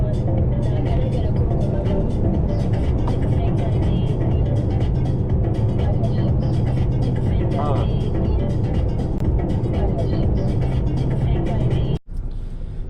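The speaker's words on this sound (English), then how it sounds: "Traffic." Steady road traffic rumble heard from inside a moving car, continuous low engine and tyre noise with a brief dropout near the end; no talk is audible in it.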